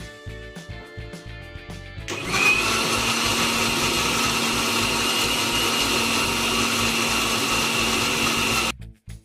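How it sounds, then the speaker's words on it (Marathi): A mixer grinder blending soaked dry fruits, two bananas and milk into a shake, starting after some quieter clatter and then running as a loud, steady whir for about six seconds before stopping abruptly. "मिक्सरमधून मी छान असं ग्राइंड करून घेतलेलं आहे."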